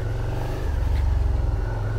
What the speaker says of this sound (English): when I let the clutch out, the revs go up